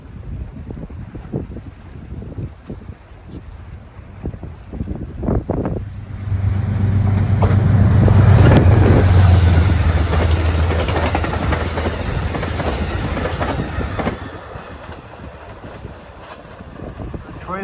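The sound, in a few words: passenger train passing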